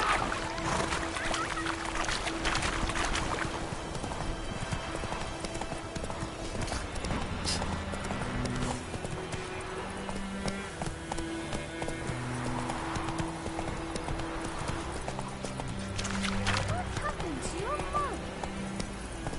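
Horse hooves clip-clop steadily at a riding pace in the video game The Witcher 3, a continuous rhythmic clatter heard over game sounds with voices talking throughout.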